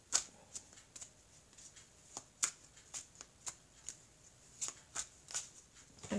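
Oracle cards being shuffled and cut by hand, a quiet, close series of crisp riffling flicks and taps in an irregular rhythm, no talking.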